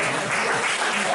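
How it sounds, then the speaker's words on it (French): Applause from an audience at a French football club gathering, a steady continuous patter of clapping filling the short moment without any voice over it. "Écoutez, on peut l'applaudir bien fort,"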